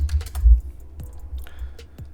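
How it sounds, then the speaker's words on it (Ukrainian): Brief bursts of typing on a computer keyboard while entering a Google search, a few close, crisp key clicks over a low background rumble. "Так і пишемо в Гуглі."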